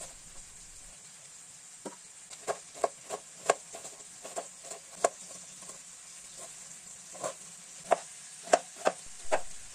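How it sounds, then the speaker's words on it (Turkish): A knife chopping green peppers on a cutting board in a home kitchen, crisp irregular knocks in short bursts with a faint steady hiss behind. "İki tane yeşil biber doğruyoruz"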